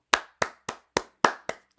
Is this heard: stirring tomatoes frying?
no